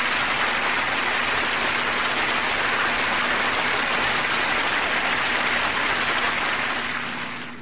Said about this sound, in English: I get another hand clap on that one.